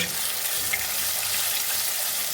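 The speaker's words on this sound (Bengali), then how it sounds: "এই ডিম দুটোকে পুরো ঝুড়ি ভাজা মতন করে ভেজে তুলে নেব" Two eggs fry in a pan for chicken fried rice, giving a steady, fairly loud broadband hiss and crackle that runs unbroken through the moment, with no talking over it.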